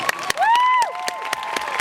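Scattered audience claps at a Kellogg's Tour gymnastics chalk talk in Anaheim, a handful of sharp separate hits spread across the moment while a bright whistle-like tone rises and falls over them.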